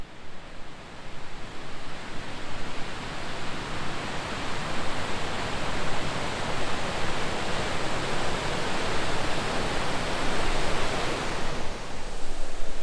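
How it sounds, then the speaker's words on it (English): A waterfall gives a dense, unbroken roar of rushing water that stays loud and even from start to finish, with no voices. "You want to stop every minute to go and have a look at stuff like this waterfall, which is absolutely amazing."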